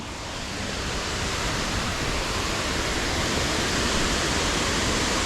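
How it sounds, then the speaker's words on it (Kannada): Waterfall beside the Vaddi Ghat road in Uttara Kannada, a steady, loud, broadband roar of falling water that holds unbroken throughout with no voices. "ಇಲ್ಲೊಂದು ವಾಟರ್ ಫಾಲ್ಸ್ ಇದೆ ಆ್ಯಕ್ಚುಲಿ, ಇಲ್ಲೇ ಕಾಣುತ್ತೆ."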